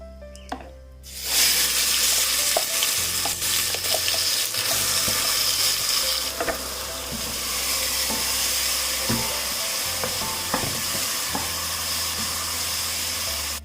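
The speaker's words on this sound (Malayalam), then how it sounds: "ഈ അരച്ച് വെച്ചിരിക്കുന്ന അരപ്പുണ്ടല്ലോ, അത് ഇതിലേക്ക് ഇട്ടിട്ട് വഴറ്റി കൊടുക്കാം" After a brief quiet start, a steady sizzle rises as paste hits a hot pan, with scattered scraping and clinks of stirring throughout.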